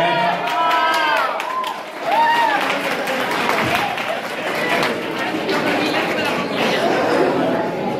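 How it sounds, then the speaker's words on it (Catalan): A crowd at a queen election event in Vallibona breaks into applause, scattered clapping mixed with lively chatter and a few whistles, while a voice talks over it. "Un aplaudiment."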